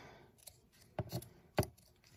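Scissors snip twice, close by, trimming loose red yarn ends on a loom-knit dinosaur, with a few soft handling rustles in between.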